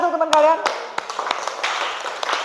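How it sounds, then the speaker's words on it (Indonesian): Classmates in a school classroom clap their hands after a group presentation, a brief scattered patter of claps following a spoken voice, fading out within a couple of seconds. "Oke, kasih tepuk tangan untuk teman kalian."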